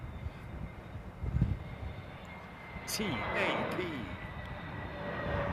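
A jet aircraft rumbles past at London Heathrow Airport in cold, windy weather: a broad engine roar that swells midway, heard outdoors from some distance, with someone talking briefly over it.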